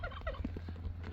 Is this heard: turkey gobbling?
yes